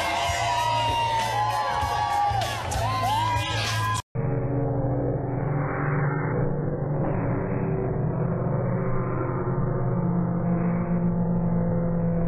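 An outdoor crowd in Manhattan on an early fall morning cheers and whoops loudly. After an abrupt cut, the noise drops to a duller, sustained crowd din with shouts rising and falling.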